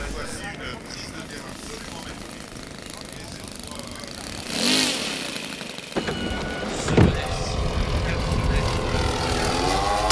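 A 4.20 m radio-controlled model Aero Commander twin flies past at an air show at La Ferté Alais, its engine drone building to a swell near the middle, with a steady background of wind and crowd.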